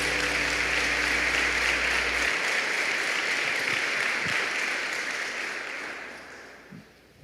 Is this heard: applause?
yes